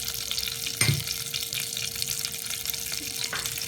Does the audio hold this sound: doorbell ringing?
no